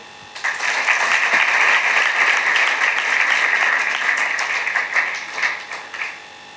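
A crowd at a Christian youth revival meeting breaks into applause, a sustained burst of steady clapping from many people lasting about six seconds and tapering off into a few scattered claps.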